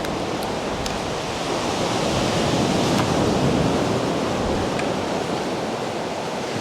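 Ocean waves wash onto a sandy beach in a continuous loud roar of surf, broad and steady with slight swells, close by and with no voices.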